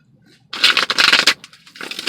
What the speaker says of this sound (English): actually shuffling tarot